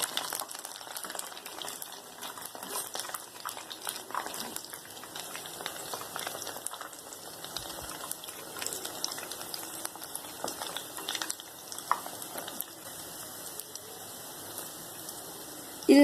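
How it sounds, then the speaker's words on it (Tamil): Baby corn cigars deep frying in hot oil over a medium flame give a steady, close sizzling and bubbling hiss that runs without a break, with no voices. "ஃப்ளேம் மீடியம்லேயே வச்சு நல்லா டீப் ஃப்ரை பண்ணி எடுத்துக்கோங்க."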